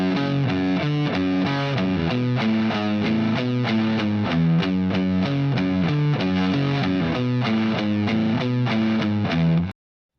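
An electric guitar with heavy distortion plays a riff slowly, a loud, steady chugging run of picked notes that stops abruptly near the end, with no voice over it.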